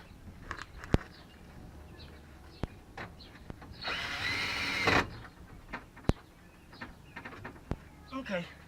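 Power drill whirring for about a second as it drives a screw into an RV trailer fender, set among scattered clicks and knocks while a person talks.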